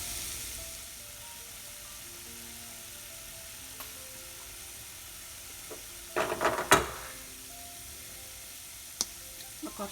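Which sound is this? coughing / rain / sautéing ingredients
sautéing ingredients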